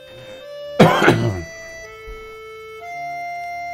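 A single throat-clearing cough from a narrator recovering from strep throat, one short harsh burst near the start, close and fairly loud, followed by quiet room tone with faint steady hum.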